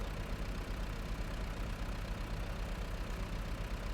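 A small logging tractor idling in a video game, its engine giving a low, even rumble with a faint regular pulse, steady and moderately quiet throughout.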